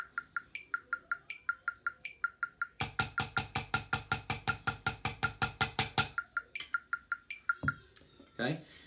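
Sharp stick strokes in a steady single- and double-stroke sticking pattern, then a fast, dense burst of strokes, ending with a few scattered knocks and brief voice sounds.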